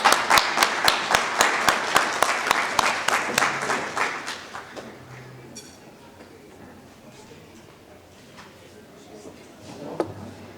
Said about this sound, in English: Let's give her a round of applause as she approaches.